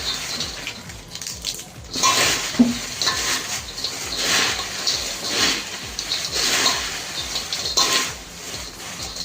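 Upvas chivda is being tossed and mixed by hand in a pan, making soft, quiet rustling and scraping in uneven bursts, with faint clinks now and then.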